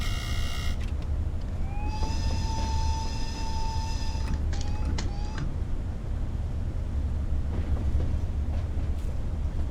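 ÖBB 1020 Crocodile electric locomotive in Train Sim World on the Mittenwaldbahn route, a steady low rumbling drive with a rising whine and a brief tonal horn-like sound early on, continuous and close.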